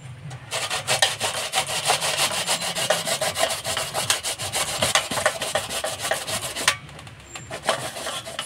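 Pumpkin being grated by hand against a perforated metal plate, a steady run of close, loud rasping strokes for most of the clip, pausing briefly near the end before starting again.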